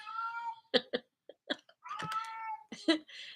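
A cat meows several times in a row, close and clear, with drawn-out yowls broken by short chirps and pauses.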